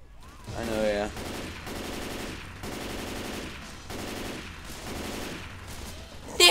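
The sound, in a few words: gunfire in video game Left 4 Dead 2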